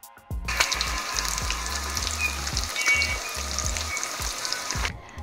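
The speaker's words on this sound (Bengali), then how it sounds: "আমার উপরে পড়েছিল হচ্ছে ইলিশ মাছ ভেজে নিতে হবে" Hilsa fish fries in a pan with a loud, dense sizzle and spattering crackle over a low rhythmic thumping hum, cutting off abruptly near the end, with no talking.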